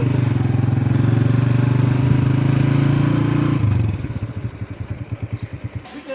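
A 105 motorcycle engine that is up for sale drones steadily and fairly loudly at close range, then drops into a slower, uneven putt-putting idle with pulsing beats.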